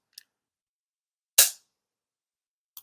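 A water-resistant percussion cap firing weakly: one sharp, short snap with a quick decay, with faint small clicks before and after in otherwise near silence.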